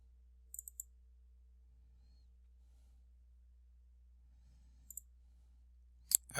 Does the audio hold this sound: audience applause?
no